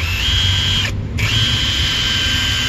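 A cordless impact wrench running forward whirs at a steady high pitch, cuts out briefly for a moment, then starts again and keeps running.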